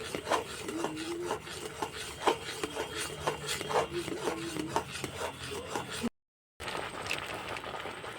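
A spoon scrapes and rubs steadily through raw mango jam cooking in a pan, a rhythmic rasping stir repeating close by, with a brief gap near the end.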